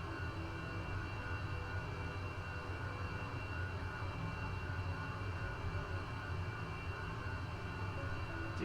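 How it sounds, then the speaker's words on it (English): An airliner taking off from Gran Canaria airport produces a steady, dense engine roar heard from inside the cabin, constant and unbroken with no talk. "Takeoff"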